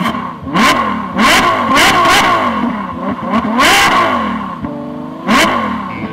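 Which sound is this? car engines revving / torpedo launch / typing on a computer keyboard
car engines revving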